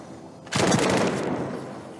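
Weapon explosion effect in the video game The First Descendant, a single sudden burst that swells and then decays slowly into a noisy rumbling tail, fairly faint and heard alone.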